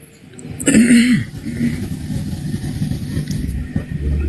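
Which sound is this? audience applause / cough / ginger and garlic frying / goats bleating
cough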